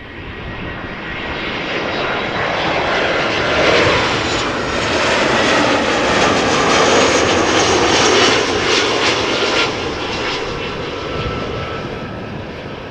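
Airliner in Berlin-themed livery arriving at Amsterdam Schiphol, its engines producing a loud, steady roar that swells gently and holds across the whole stretch, with no voices.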